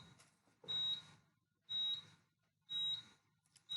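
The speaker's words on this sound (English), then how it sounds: "So we can just mute the buzzer again." An alarm panel buzzer beeps in short bursts about once a second, each a thin steady tone over faint background hiss, moderately close with no speech.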